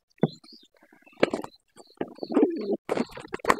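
Pet pigeons cooing close by in a quiet room, a series of soft, throaty coos and rolling murmurs in separate bursts with short pauses between them.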